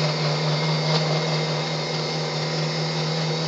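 A blender whirring steadily at low speed, chopping cheesecake ingredients, with a constant motor hum and a faint grinding texture throughout, close and fairly loud with no talk.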